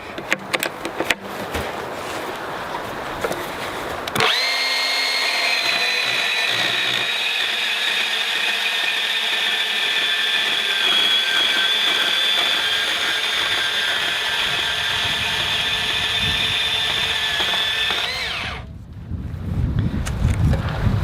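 Makita 18V XBP02 cordless portable band saw cutting steel pipe, a loud, steady high-pitched whine with a ringing metallic edge for about fourteen seconds, starting abruptly and stopping sharply, with handling noises before and after.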